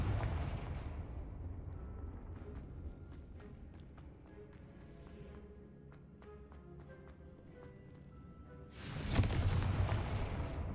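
A Confringo blasting spell explodes in Hogwarts Legacy, a sudden loud burst near the end after a stretch of quieter ambient game sounds.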